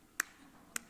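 Two sharp, isolated hand claps about half a second apart, close and fairly crisp, performed as a demonstration in a church service, with quiet room background between them.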